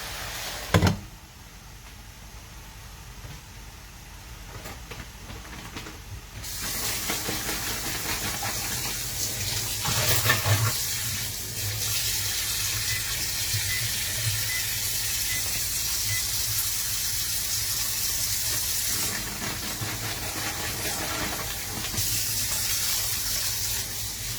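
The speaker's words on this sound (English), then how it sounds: "Just washing out these little packets." Running tap water splashes steadily while small plastic packets from a beef stir-fry are rinsed out in a sink, a continuous broad wash of water with a brief knock near the start.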